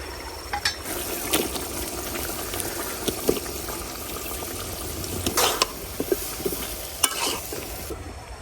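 Potatoes and cauliflower simmer in a thin tilapia fish curry broth over steady bubbling, broken by a few soft stirring clinks and scrapes, with no talking.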